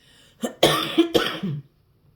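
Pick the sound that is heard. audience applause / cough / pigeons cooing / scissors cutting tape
cough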